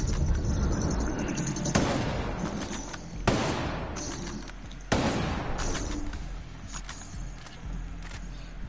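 Gunfire and explosions from a PS4 shooter game at night: a few sharp booming bursts spaced a couple of seconds apart, each fading into a rumbling tail over dense, steady background noise.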